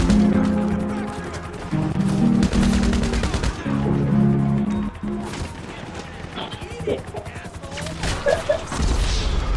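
Rapid gunfire and bursts of shots in the online mode of the video game GTA V, with crashes and impacts over a steady droning backdrop, loud and near throughout.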